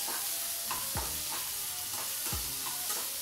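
Paneer and peas sautéing in butter in a pan give off a steady, close sizzle, broken by two distinct scraping strokes of a spatula across the pan's base.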